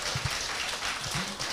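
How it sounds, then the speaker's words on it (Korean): Audience applause at a seminar or talk event, a brief burst of clapping heard at moderate distance, soft and steady with no speech over it. "박수 한번 보내주세요."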